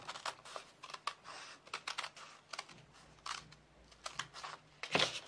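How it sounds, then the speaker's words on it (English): Fabric scissors snip through a paper orange peel quilt template in a quick series of short, close, crisp cuts with pauses between them. "I'm going to use my good scissors because it's going to go much faster."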